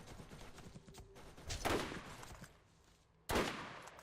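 Turret gunfire in the video game Borderlands: two loud, close bursts of rattling shots about two seconds apart, over a low background rumble with no talk.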